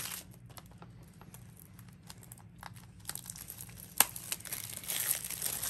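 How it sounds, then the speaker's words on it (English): Plastic wrap crinkles and tears as it comes off a Tom and Jerry DVD case, a run of close, irregular crackles that sharpens into a sudden loud rip around the middle and keeps rustling after. "What do you say we unwrap this sucker?"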